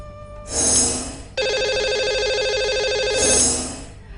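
A telephone rings out on a radio show as the host dials a lucky caller, the bright electronic trill repeating in clear loud bursts with no talk over it.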